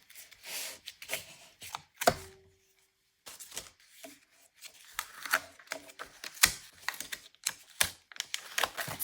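Tape is pulled and pressed down to join two art journal pages, giving close, crackly rustles and quick tearing bursts, with a short silent pause midway.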